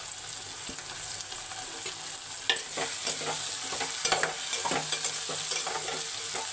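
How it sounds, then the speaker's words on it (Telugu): Okra and eggplant frying in a pan for an egg curry, a close steady sizzle with frequent scraping and clattering stirs, no voices. "బెండకాయ వేస్తున్నాను తర్వాత వంకాయ కూడా వేస్తున్నాను"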